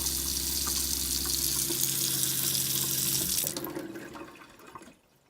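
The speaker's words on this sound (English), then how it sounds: "we have running water" Water gushes steadily from a cabin sink tap with a water pump humming underneath, then the flow tapers off and stops.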